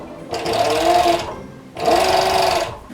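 Sewing machine stitching sleeves onto the bodice of a girl's Regency dress, heard as two close, steady whirring bursts of rapid stitching separated by a short pause.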